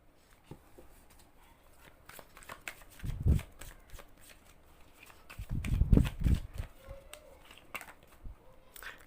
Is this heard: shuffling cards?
yes